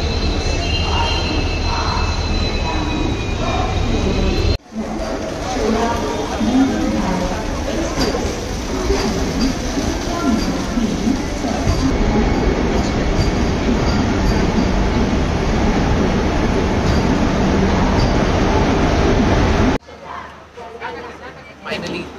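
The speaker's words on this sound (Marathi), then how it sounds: "रेल्वे आली।" A passenger train rumbles into a busy railway station, its steady roar and rattling carriages mixed with crowd chatter and voices nearby.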